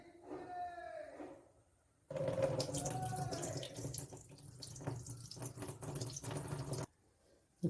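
Buttermilk water poured off freshly churned butter, made while preparing homemade ghee: a steady, close splashing pour lasting several seconds after a quieter opening, then cutting off.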